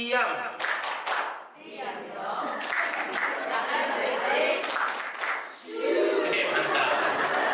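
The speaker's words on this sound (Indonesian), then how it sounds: "Tepuk tangan semuanya Bu." A group of parents at a school study session claps hands together in uneven bursts, mixed with chatter, voices and scattered chuckles.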